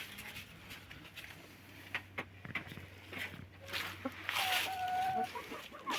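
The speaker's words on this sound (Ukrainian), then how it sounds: "Такі гарні курочки. Ну, Це бролерні." Broiler chickens cluck softly nearby in a yard, with scattered short clucks and rustling steps, faint overall, ending with a brighter vocal call.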